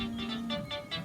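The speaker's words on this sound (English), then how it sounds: "That was my phone going off." A mobile phone ringtone goes off nearby during a crochet tutorial, sounding a short, repeating run of steady electronic tones, fairly faint and heard on its own.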